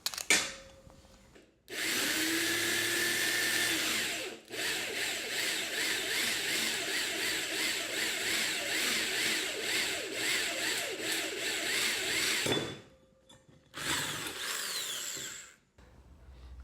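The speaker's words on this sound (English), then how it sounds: "So let's drill some holes." A power drill whines loudly and continuously through metal track for about ten seconds, stops briefly, then bores again for a shorter burst.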